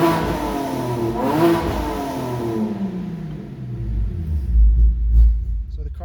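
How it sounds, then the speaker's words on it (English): A modified 2006 BMW 325i engine accelerates loudly, rising through the revs with a deep rumbling roar, then settles into heavy low-pitched pulses as speed drops. "So the car is very loud, as you can tell."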